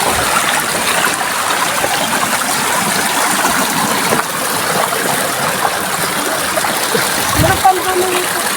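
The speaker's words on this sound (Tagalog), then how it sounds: "Ito pala yung Batis." Steady broadband rush of a flowing stream fills the whole stretch, with faint voices in the background and a brief splash near the end.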